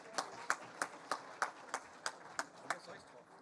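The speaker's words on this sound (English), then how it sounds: "Laura Devoni, give a round of applause from Algoma Steel." Sparse, faint applause at a Chamber of Commerce business awards ceremony in Sault Ste Marie: about ten distinct slow claps at a steady rhythm, heard at a distance in a quiet hall.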